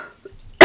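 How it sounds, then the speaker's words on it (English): A person with a cold gives a single sharp, loud cough right at the end after a brief quiet pause and a faint breath. "I'm coughing."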